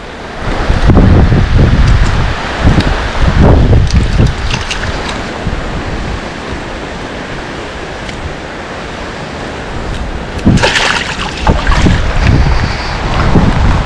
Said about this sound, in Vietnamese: trời ơi mưa ầm ầm tới luôn á nha, ôi gió